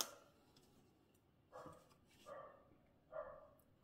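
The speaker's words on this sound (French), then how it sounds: "faut que le chien des voisins aboie" A neighbours' dog barks in the distance, three faint separate barks spaced about a second apart, heard through an open window over quiet room noise.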